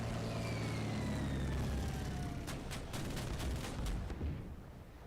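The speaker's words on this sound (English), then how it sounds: "We'll try and bring this enemy ship under fire and attempt to sink it." Naval guns in the video game Order of Battle: Pacific fire on an enemy ship. A rapid series of sharp cracks rises over a low engine drone, and the volley fades out near the end.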